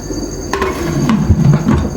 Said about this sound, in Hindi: ये देखिए मैंने ढक्कन लगा दिए,